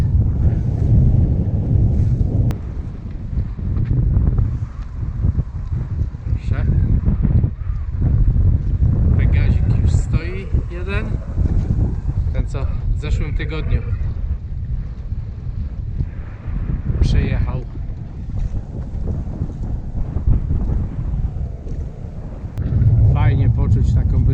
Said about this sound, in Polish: Wieje akurat prosto na ten brzeg.